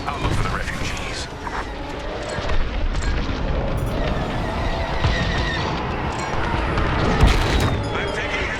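Blaster fire and explosive booms in the Star Wars: Squadrons space combat game, with dense rapid shots over a constant engine roar, loud throughout and overlaid with radio chatter.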